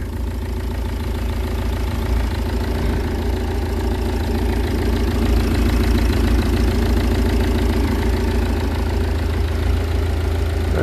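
A green Citroen C5 engine idles steadily right after a timing belt change, a close, even mechanical hum with a light rhythmic ticking that holds constant throughout, with no voices.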